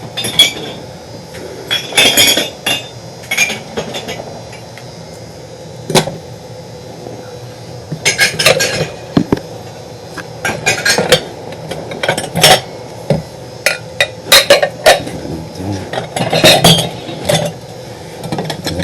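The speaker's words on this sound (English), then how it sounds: "Plates, I'm gonna put them right in the middle right there." Plates, bowls and other dishes clink and clatter in irregular bursts while being stacked and put away during a cluttered house cleanout, with sharp ceramic knocks scattered across a low background hum and no talking.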